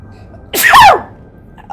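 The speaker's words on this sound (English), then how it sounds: "I think I'm gonna sneeze." A single loud, close human sneeze bursts out sharply after a quiet moment in a Mass Effect 3 game scene, then fades away.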